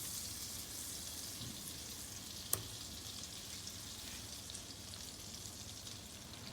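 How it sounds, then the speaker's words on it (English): Two tablespoons of butter melt in a pan with a faint, steady sizzle and soft crackle. A single sharp click cuts through early on, and no one speaks. "we will melt our 2 tablespoons of butter. So let it melt a little bit."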